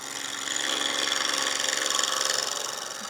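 A wood lathe turning end grain, the tool cutting left-handed to stop chipping at the top, gives a steady broadband hiss and scrape that holds at an even, close level for the whole stretch.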